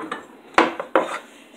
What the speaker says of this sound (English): So then when I'm done, I just get a bowl of cereal.